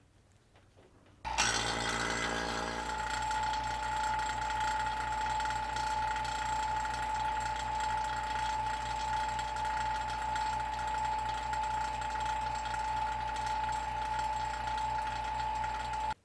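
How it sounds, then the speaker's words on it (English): A vacuum chamber pump degassing urethane casting resin switches on abruptly and runs steadily with a constant droning hum and rapid rattling pulse, close and unchanging. "Now I'm going to take my vacuum chamber and we're going to throw this in here"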